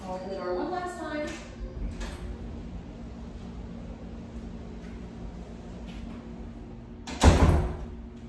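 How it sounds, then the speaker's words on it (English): A door is opened indoors during a dog obedience session, giving a single sharp thump and rattle near the end after a quiet stretch with faint tonal vocal sounds at the start. "I'll open the door one last time."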